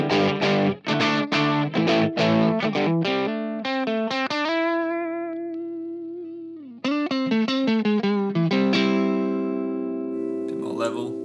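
An electric guitar runs through a free Analog Obsession amp plugin with the gain set for crunch, playing a quick run of strummed chords, a sustained ringing chord, then more chords, loud and distorted with no talking.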